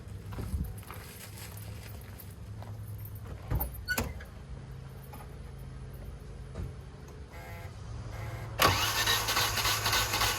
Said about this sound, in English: we're trying to get it to run on starting fluid. It's getting one little spark and that's it.